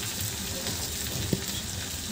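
Green chillies, ground cumin and garam masala frying in hot oil, a steady close broadband sizzle with one brief sharp pop partway through, no talk.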